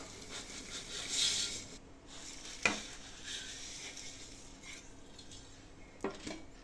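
Ragi semiya roasts in hot oil in a pan with a faint, steady sizzle. Occasional quiet scrapes and taps of stirring carry over a low background hum.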